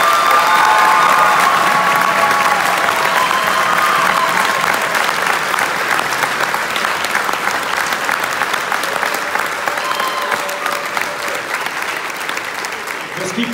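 Steady, dense applause from a large audience at the curtain call of a school Christmas choir concert, the Singing Christmas Tree, filling the hall for the whole stretch and easing slightly toward the end, with a voice and faint music over the clapping.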